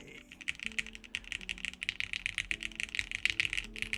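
Fast typing on a 60% mechanical keyboard, a dense run of crisp, close clacking keystrokes with a steady rhythm and no talk.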